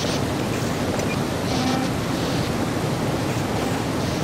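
Steady rushing water like a dam in the video game Half-Life 2, a constant loud broadband roar with no breaks, heard alone.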